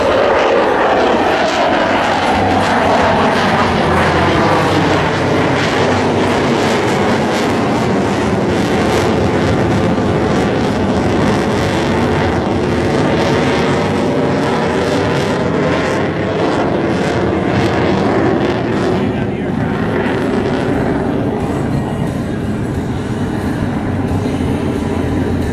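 Boeing F/A-18F Super Hornet with twin F414 turbofans performing at an air show demonstration near the beach, a loud continuous jet roar with sweeping pitch shifts as it passes, sustained for the full span without talk.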